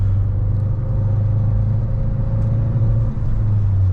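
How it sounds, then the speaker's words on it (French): A 2004 Renault Scénic 2 with a 2.0-litre 16-valve naturally aspirated F4R petrol engine producing 135 hp, heard from inside while driving: a steady, loud low engine drone and road rumble with a faint constant whine, no talk. "je vous présente un Renault Scénic 2 de 2004 avec le moteur 2 litres essence 16 valves de 135 chevaux"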